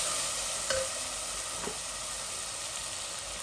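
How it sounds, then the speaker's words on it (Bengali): Chilli and spice masala fry in a black pot with a steady hissing sizzle, and a couple of soft scrapes from stirring come through near the start, with no voices. "আস্তে আস্তে আমার মরিচ মশলাগুলা ভাজা ভাজা হোক"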